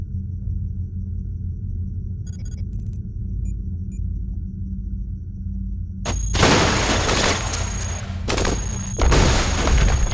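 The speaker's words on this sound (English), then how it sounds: "Everything's exploding," Loud bursts of explosions from the video game CogMind crash in over a steady low rumble, two long noisy blasts with a short gap between them after a few faint beeps.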